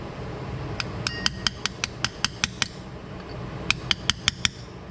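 Sharp metallic taps from a hammer striking a socket to seat a Subaru axle seal, a rapid run of about ten even blows, a pause, then five more, close and clear over faint background noise.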